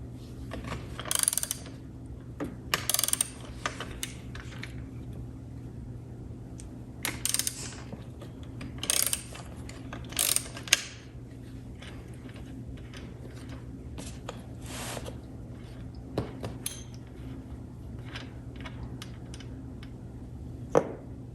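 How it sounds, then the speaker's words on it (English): A 3/4 wrench works a fastener loose on a Lexus ES350 rear sunshade, giving sparse, quiet ratcheting clicks in short bursts separated by pauses. "I got a 3/4 wrench to take off this"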